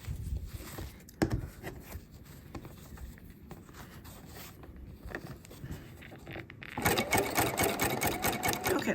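Sewing machine stitching fabric strips onto a fabric Easter basket, running in steady bursts with short pauses, then a louder, faster continuous run near the end.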